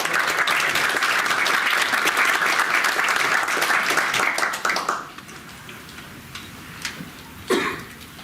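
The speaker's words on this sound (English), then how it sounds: "let's give a round of applause to Arnold" An audience at a public policy forum on data centers in Michigan applauds steadily for about five seconds, then the clapping fades to a quiet room with a few scattered claps and a brief burst near the end.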